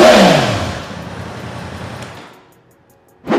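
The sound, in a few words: Yamaha R1M 2024 motorcycle engine revving, stock exhaust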